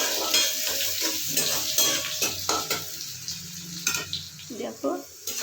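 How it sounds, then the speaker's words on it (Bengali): Chopped onions fry lightly in oil in a pan for a tilapia curry, a soft steady sizzle broken by repeated scraping stirs and light clinks of a utensil against the pan. "যে পেঁয়াজ কুচটা ছিল বাদ বাকি সেটা দিয়ে দিচ্ছি। এবার এটা একটু হালকা ভেজে নেবো"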